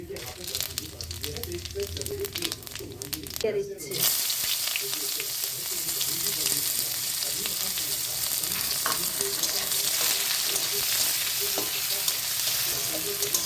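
Dry red chili, whole garam masala, cumin and bay leaf dropped into hot oil, bursting into a loud, steady sizzle after a few quieter seconds, close by and continuing with faint crackles.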